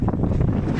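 Strong wind buffets the microphone with a loud, continuous low roar and rumble, gusting without a break, during fishing.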